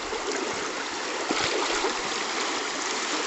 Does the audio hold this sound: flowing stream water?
yes